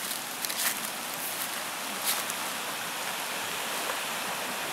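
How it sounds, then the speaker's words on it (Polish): A steady, broad rush of a mountain river flowing beside a church fills the whole clip, a continuous hiss with slight surges and no voices. "Z pewnością słychać, jak ta rzeka pięknie szumi"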